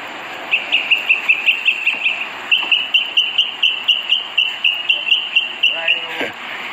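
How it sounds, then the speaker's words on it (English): Birds calling beside a river in Jamaica, a quick run of repeated bright chirps that keeps a steady pulse and stays fairly close, followed by a brief lower call at the end, with outdoor background noise beneath. "Listen to the birds."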